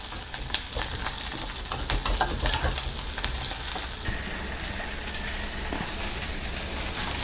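Curry leaves fry in hot oil for a village-style mutton kuzhambu, giving a steady, dense, hissing sizzle with faint crackles and occasional stirring, continuous and close, with no talking.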